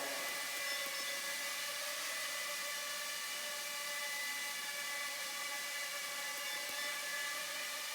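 A Walkera Y6 Scorpion mini hexacopter drone hovers indoors, its small rotors making a steady, high-pitched whirring whine that holds constant throughout without pause.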